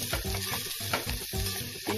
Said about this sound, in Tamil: வதக்கி விடுங்க வெங்காயத்தை.